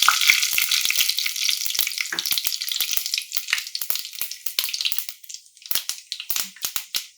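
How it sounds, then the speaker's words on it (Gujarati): Mustard seeds and cumin crackling and popping in hot oil, a dense stream of sharp sputtering pops over a steady sizzle, thinning into scattered crackles toward the end. "રાઈ અને જીરું આપણું થોડું ચટકી જાય"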